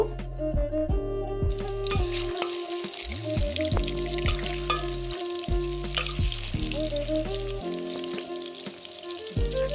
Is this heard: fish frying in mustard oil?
yes